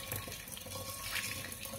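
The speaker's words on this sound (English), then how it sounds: "I'm just adding some more boiling water to it" Boiling water pours into a vessel of fermenting banana wine, a steady close splashing trickle with a faint hum underneath.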